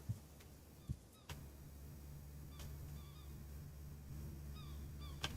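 Seagulls in the sailing game Escape The Pacific give several short, thin calls at a moderate distance over a steady low ambient hum, with a few sharp clicks scattered through.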